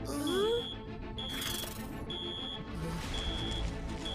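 An alarm goes off in the animated cartoon Rudra as a series of thin, high, steady beeps sounding on and off, mixed with a brief rising whistle and busy cartoon sound effects.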